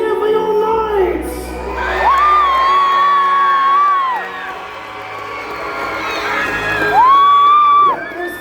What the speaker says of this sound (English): cheer for your knights